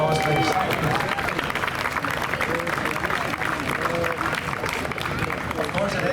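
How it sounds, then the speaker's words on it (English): Outdoor crowd applause at the Saintfield Culture Day and ABOD march in the village, a dense, steady clapping that fills the whole stretch at close range, with crowd murmur mixed underneath. "Let's give them another round of applause, please"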